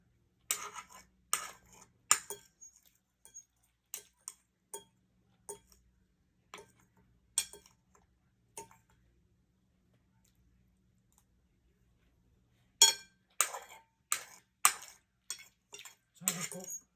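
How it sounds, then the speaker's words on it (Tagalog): Eating utensils clinking against a plate during a meal of sotanghon guisado with chicken, vegetables and basmati rice, a series of sharp, close, irregular clicks in bursts separated by quiet pauses. "Maingay po yung mga utensil ko."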